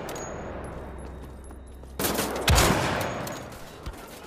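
Gunfire from the first-person shooter Wolfenstein: The Old Blood on PS4, a loud burst of shots starting midway and ringing out, with a sharp impact following over a low droning background.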